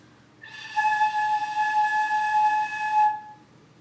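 A breathy, airy flute tone, blown straight ahead rather than down, holds steady for about two and a half seconds, thin and a little unfocused, with no one speaking.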